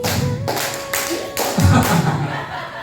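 Group of teachers in a training session clapping a counted rhythm pattern, a few distinct claps and thuds spaced in short groups, with a voice speaking and faint chuckles between them.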